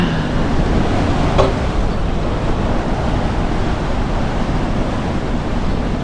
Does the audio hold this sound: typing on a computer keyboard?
no